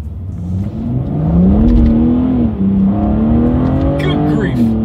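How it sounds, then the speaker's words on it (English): A 2021 BMW M3 engine revs hard during a paddle shifter test, rising and dipping through several quick gear changes. The sound is loud and close, with a voice talking faintly underneath. "let's do a quick little paddle shifter test here to start, and let's see how quickly these paddle shifters are going to react for us here"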